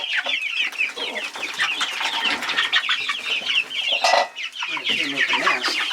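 Young chicks let out into their run for the first time keep up a busy chorus of close clucking and peeping, with several birds calling over one another without a break.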